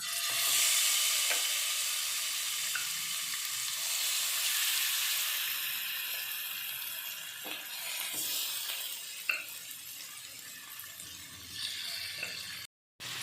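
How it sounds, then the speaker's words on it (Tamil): Marinated chicken sizzles in hot oil over a high flame for a pepper roast. The frying hiss is loudest at first and then settles to a softer, steady crackle, broken by a few light stirring knocks. "எண்ணெய் சூடானதுக்கப்புறம் ஸ்டவ்வை ஹை ஃப்ளேமில் வச்சுட்டு நம்ம ஊற வச்சு வச்சுருக்கிற சிக்கனை ஆட் பண்ணிக்கலாம்."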